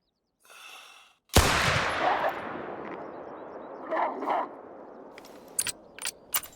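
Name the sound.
pistol shot in video game theHunter: Call of the Wild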